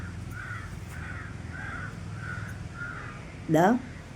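A crow caws over and over at an even pace, about five calls, followed by a sharper, louder bird call near the end, all over a low background murmur, beside spread chicken manure on a farm.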